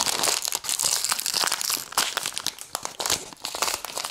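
A plastic packet of flax seeds being torn open, with loud, close crinkling and crumpling in rapid bursts throughout and no talk.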